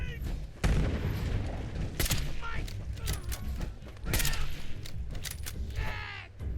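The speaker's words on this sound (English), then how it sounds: "somebody chucked a grenade" A grenade explosion in Fallout 76 lands amid ongoing combat noise, with several loud bursts and a dense clatter of action around it, all under a talking voice.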